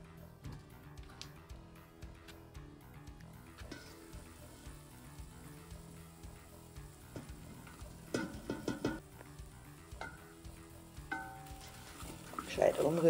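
Onions and grated celeriac frying in a pot over an outdoor kitchen fire, stirred now and then, giving a low steady sizzle with scattered scraping and clinking, busier near the end.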